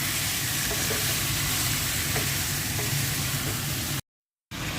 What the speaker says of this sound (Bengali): এখন মুরগিটা ভেজে নেব।